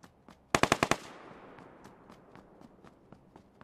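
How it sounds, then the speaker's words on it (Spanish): A rapid burst of five loud gunshots in PUBG Lite on the Miramar map, followed by scattered fainter shots and clicks in the distance, with no talking. "Escuché disparos, pero no lo veo."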